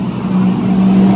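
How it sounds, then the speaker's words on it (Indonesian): Toyota Corolla AE111 radiator fan motor running, a steady close hum with a strong low tonal whine that holds level and grows slightly louder, no voices. "fan radiator."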